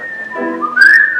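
A short whistled melody line from a song, a clear, bright tone that holds, slides between notes and rises near the end, close and alone with no talking.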